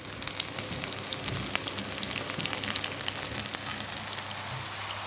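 Onions frying in oil in a pot give a steady, close sizzle with dense crackling pops, unbroken and fairly loud throughout, with no voices.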